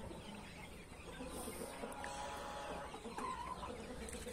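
Chicks cheep faintly in a poultry setting, a few soft high chirps scattered over low background noise.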